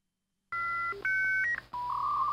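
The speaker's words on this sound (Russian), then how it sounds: "Я уверен, что многие угадают скорость, на которой соединился этот модем." Dial-up modem connecting over a phone line: a run of clear DTMF dialing tones and beeps, then steady handshake tones, sounding loud and alone with no talk.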